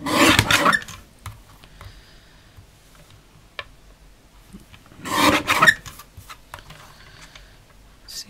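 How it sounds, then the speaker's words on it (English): A paper trimmer guillotine cuts card in two short, close rasping slices a few seconds apart, with faint clicks and handling sounds between them. "I'm going to get my little trimmer out, my guillotine out."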